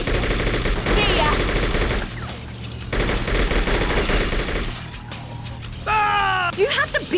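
Automatic gunfire rattles in long bursts through a street shootout in the video game True Crime: New York City, pausing briefly between volleys. Loud voices and shouting come in near the end.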